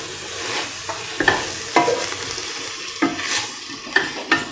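Garam masala spices being stirred into long yard beans and rice frying in a pan: repeated scraping stir strokes at an irregular rhythm over a continuous close sizzle, with no talking.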